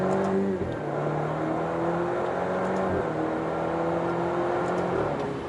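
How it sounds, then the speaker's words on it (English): An Alfa Romeo Stelvio Ti fitted with a Centerline Stradale exhaust accelerates hard through the gears toward the rev limiter, its engine note climbing in strong, loud sweeps with brief drops at the shifts, and no talking. "I want to do a hard acceleration, first gear, second and third, and we're going to see how it sounds"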